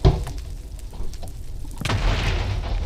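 An explosion in the video game Minecraft, set off near obsidian and ancient debris, gives a sharp booming burst followed by rumbling debris, then a second heavy blast with a sustained roar.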